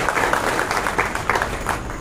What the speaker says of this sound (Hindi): आप तालियों से उनका स्वागत करिए